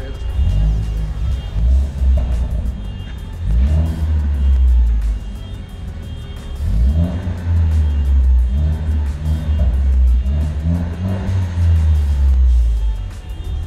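A Ford Focus ST with a cat-back exhaust and resonator delete revs repeatedly in deep, loud, raspy bursts, the rumble swelling and falling several times with no talking.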